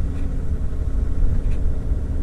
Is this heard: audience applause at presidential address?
no